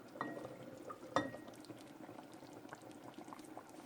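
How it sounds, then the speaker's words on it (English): Dried beans and meat simmering in a pot, a soft bubbling and gurgling with small pops, quiet and close, a louder clink near the start, with no speech. "just let it simmer away until it's all cooked"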